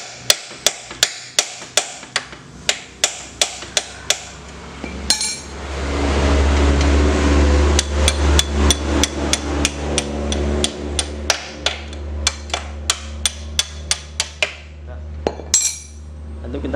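A hammer striking a shock absorber bushing on a Yamaha Vixion motorcycle, with a rapid series of sharp metallic clinks in bursts, close and loud over a steady low hum, and a pause of grinding noise in the middle.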